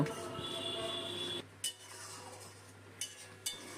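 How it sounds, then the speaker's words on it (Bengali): Cashew nuts and sour curd paste being sautéed in a pan for a fish kalia, with a steady low hiss and a few sharp clinks of a utensil against the pan. "এখন এই কাজু বাদাম আর টক দইটাও ভালো করে কষিয়ে নেব"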